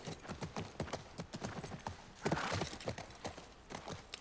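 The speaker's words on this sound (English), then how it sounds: "Alright, gotta mount on the horse, I guess." Horse hooves clip-clop at a steady walking rhythm in The Last of Us (PS5) video game, moderately close and fairly soft, with a brief louder stretch midway and no talk over them.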